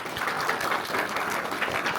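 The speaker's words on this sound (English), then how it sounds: "a big round of applause for Ella" Steady audience applause for Ella at an event in Newcastle, a dense, even patter of many hands clapping continuously throughout at moderate loudness.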